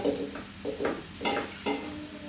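Mutton pieces frying in a pan with salt and turmeric, a sizzle broken by four or five bursts of stirring and scraping that come roughly every half second, close and moderately loud with no voices.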